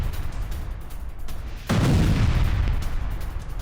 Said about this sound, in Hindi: बालबेक और बेका में इजरायल का यह हमला, जहां हथियारों के गोदाम को कैसे तबाह किया गया देखिए।